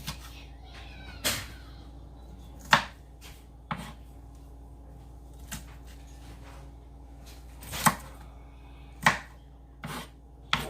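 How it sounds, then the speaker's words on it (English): Knife chopping food for tacos on a board, about a dozen sharp, separate cuts at an uneven pace, fairly close, with a low steady background hum and no talk. "And the chopping is over. No more chopping."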